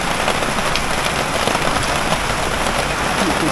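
Steady, dense rain pours onto a surface in a continuous close hiss, with no break or other sounds.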